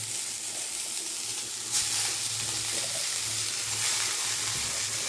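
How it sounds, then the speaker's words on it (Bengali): Greens going into a pan of lightly fried onion for a Bengali bethua saag paratha, sizzling and frying steadily and close up, with a louder burst of hiss partway through and stirring beneath, no talk. "এই যে সুন্দর পেঁয়াজটা বেশ হালকা ভাজা ভাজা হয়ে গেছে। এবার শাকগুলো সব দিয়ে দেবো।"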